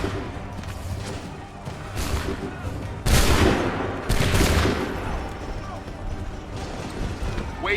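Musket volleys crack out in Assassin's Creed 3, two loud massed bursts a second apart over a rumbling battlefield din, with shouted orders around them.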